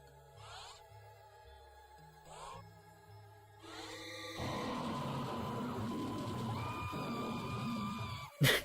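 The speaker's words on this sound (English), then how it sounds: "Nice scream sound effect." In the video game Rayman 3, a screaming sound effect rises with a harsh, sustained tonal wail over game music and lasts several seconds before a sharp burst at the end.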